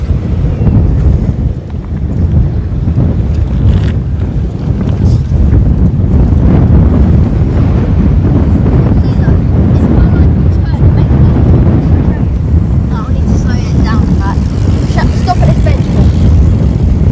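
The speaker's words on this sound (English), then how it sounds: "Now the wind's getting up." Strong wind buffeting a microphone outdoors near Minster Beach on the Isle of Sheppey, Kent, a loud continuous low roar with gusts throughout, and faint voices in the background.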